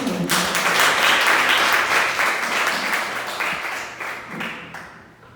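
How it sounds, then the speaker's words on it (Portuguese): A church congregation applauds, a loud, dense burst of clapping that swells early, holds steady, then gradually thins and fades out toward the end. "E a igreja aplaude ao Senhor."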